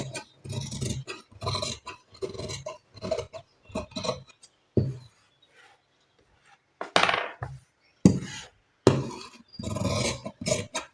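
Scissors snip through blouse fabric along the side seams in a series of short, crisp, irregular cuts separated by pauses, close and moderately loud.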